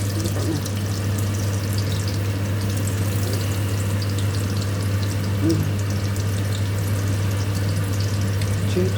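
Breaded fish fillets fry in hot oil, giving a steady, close sizzle that runs unbroken with a constant low hum beneath it.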